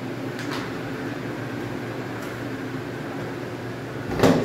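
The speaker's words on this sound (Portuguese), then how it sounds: "Esse barulho é do ventilador" An electric fan runs in a room, giving a steady broadband whir with a low hum, continuous throughout, with a brief knock or rustle near the end.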